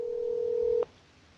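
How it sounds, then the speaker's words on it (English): Outgoing Telegram call tone: a single steady electronic ring tone that holds for under a second, then cuts off abruptly and leaves quiet room noise. "I'm gonna hit the call button on Telegram real quick."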